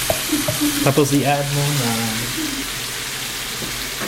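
Ground pork sizzles loudly in a pan as it is stirred and broken up for Filipino pork giniling, with scraping and clinks under a person speaking briefly.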